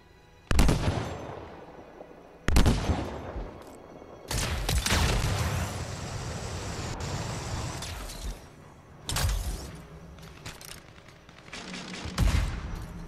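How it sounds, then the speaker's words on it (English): Gunfire in the video game Anthem: loud, dense bursts of automatic shots and blasts, several separate volleys with short gaps between them, each one close and harsh. "What are y'all shooting at?"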